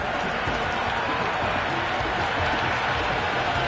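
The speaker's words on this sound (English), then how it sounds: "Will you listen to that crowd?" Dense, roaring cheer and applause from a large crowd at a cricket stadium during a T20 World Cup match between Zimbabwe and West Indies, steady and loud across the whole stretch with no break.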